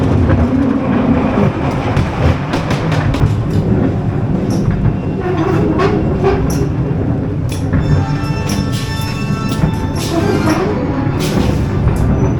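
The ghost train dark ride at Blackpool Pleasure Beach rumbles and clatters along its track, a loud continuous rolling rattle with sharp clicks and bangs and a few electronic tones partway through.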